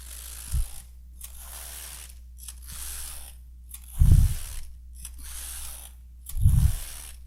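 A Passap knitting machine knitting rows of a reversible hat, its carriage sweeping back and forth in repeated mechanical passes with a thudding clunk at each end, close and loud.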